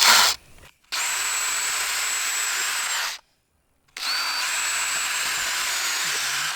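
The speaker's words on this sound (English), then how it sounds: "I'm going to pre-drill where these anchor bolts are going to be." A power drill pre-drills holes for anchor bolts on a steel Euro fence dog kennel frame, whining steadily in two long runs with a brief pause between, close and loud with no talk.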